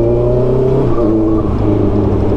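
Four-cylinder big bike motorcycle with a loud muffler exhaust, revving close by in a strong, continuous droning roar that shifts pitch slightly as the throttle changes.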